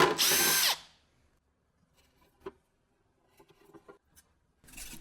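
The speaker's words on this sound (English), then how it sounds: "I just drill a bunch of useless holes so I can change my mind later." Power drill boring holes in a metal lathe shield, one loud whirring burst at the start and another beginning at the end, with faint scattered taps and clinks between them.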